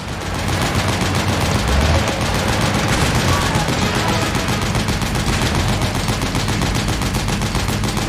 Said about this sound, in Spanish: Disparo a la puerta, ¿no?